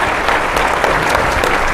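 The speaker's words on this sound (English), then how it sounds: "Let's give a big round of applause to all the COOs." Loud, steady applause from a summit audience of ski area operations chiefs, dense clapping filling the room without a break from start to finish.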